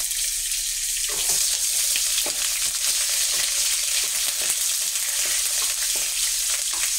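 Onion frying in a pan with garlic while assorted vegetables are cooked, giving a steady, close sizzle with occasional stirring scrapes and faint watery crackle throughout, no talking.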